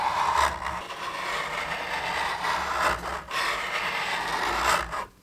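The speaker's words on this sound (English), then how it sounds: "So I decided to go a little deeper with a chisel." A steel chisel scrapes old paint off a wooden paddle with repeated rough rasping strokes, several pushes in a row, close and loud with no talk.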